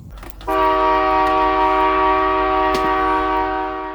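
A powerful multi-tone train horn at a horn testing facility starts abruptly and blares continuously at close range, a loud, steady chord that holds for several seconds before easing slightly.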